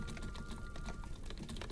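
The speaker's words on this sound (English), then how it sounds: "Oh yeah, keyboard ASMR." Rapid typing on a computer keyboard, a quick run of soft, closely spaced key clicks over a faint steady background hum, fairly quiet and close, with no talking.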